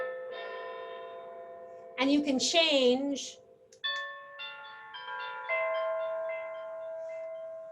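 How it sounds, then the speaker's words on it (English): A flashing alert doorbell plays a long multi-tone chime of sustained ringing notes. A person speaks briefly in the middle of the chime. "I like this chime because it goes on for a while, and it gets me, it alerts me to it."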